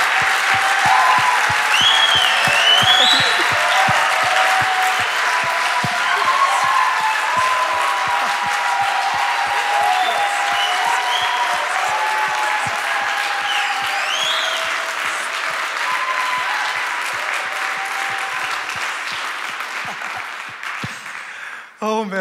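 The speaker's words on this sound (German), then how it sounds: "Hey, gibt Gott mal einen fetten Applaus." Audience applause at a worship event, sustained loud clapping from a large crowd lasting about twenty seconds, with some cheering and whoops mixed in, tapering off at the end.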